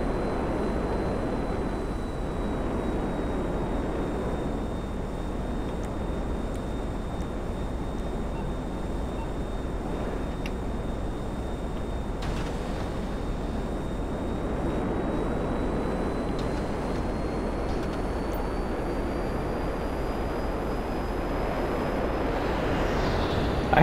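A steady, loud jet engine roar from an F-160 Raiju fighter jet hovering in GTA V Online, droning continuously with a thin high whine that slowly rises near the end.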